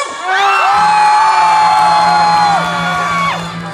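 A fan club crowd at a temple Spring Festival gala concert lets out a loud, sustained shrill scream that swells quickly, holds for about three seconds, then fades.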